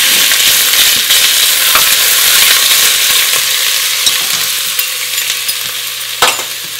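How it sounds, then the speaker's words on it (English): Chopped onions sizzling in hot oil in a pan, a loud steady frying hiss that eases slightly over time, with occasional stirring knocks and no talking. "And then we're gonna put our onions in it."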